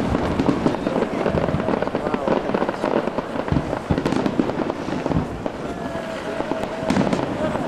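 Fireworks burst continuously over Plymouth in dense, loud crackling volleys with sharper individual bangs, while people talk in the background.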